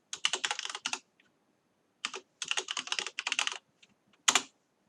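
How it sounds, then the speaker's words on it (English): Quick bursts of typing on a computer keyboard while entering database rows, close and crisp, with short pauses between runs of keystrokes and no talking. "So I'm just going to quickly type these ones in."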